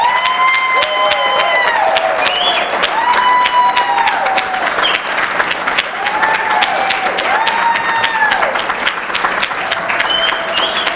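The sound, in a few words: audience applause for performers at faculty showcase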